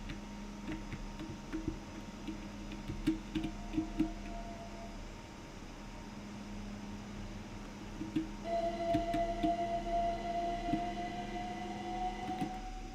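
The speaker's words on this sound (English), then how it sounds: "I swear I just heard rail ping." Rail ping in Train Sim World 6, near a Docklands Light Rail train: sustained tonal metallic ringing over a rumbling track bed, brightening and growing louder in the second half, with no talk.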